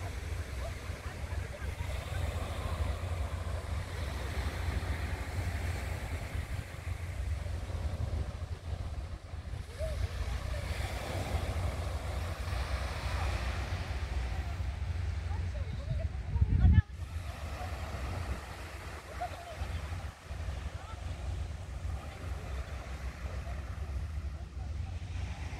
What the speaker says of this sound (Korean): 잘 보셨죠? 파도 소리 시원하니